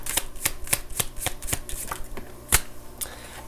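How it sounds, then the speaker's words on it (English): Tarot cards being handled and shuffled up close, with a steady run of crisp snapping riffles about every half second and one louder slap near the end. "Let's go ahead and grab a couple more cards here."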